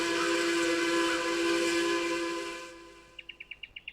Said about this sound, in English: The distant sound of a steam train can be